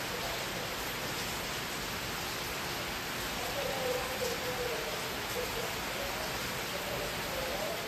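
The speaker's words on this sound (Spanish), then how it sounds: "está lloviendo recio" Steady heavy rain pours down in a dense, unbroken hiss, loud and constant throughout with no pauses.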